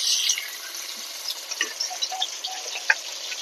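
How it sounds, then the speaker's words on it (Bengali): Silver carp fish fry in hot mustard oil with a steady, bright sizzle, scattered with small pops and crackles throughout. "তেল গরম হয়ে গেছে, এবার আমি মাছগুলোকে ভেজে নেব।"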